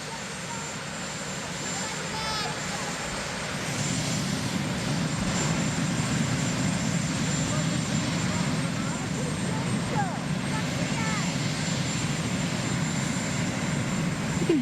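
A presidential helicopter's engine whines and rumbles steadily at a distance, a continuous drone beneath crowd noise and shouted voices.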